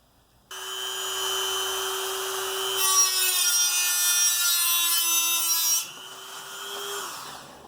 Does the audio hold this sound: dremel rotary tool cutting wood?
yes